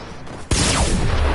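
Sustained automatic gunfire erupts abruptly in a video game and continues loud and dense to the end, with no talking over it.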